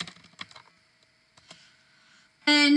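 Typing on a computer keyboard, a few scattered soft key clicks close by in quiet, with a bright electronic tone bursting in loudly at the end.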